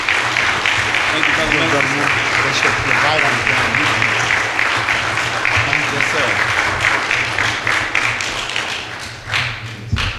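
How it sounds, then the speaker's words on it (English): A crowd applauds steadily and loudly at a Muhammad Mosque gathering as a speaker is welcomed to the rostrum, with a voice speaking briefly over the clapping near the end. "Let's bring him on with a round of applause."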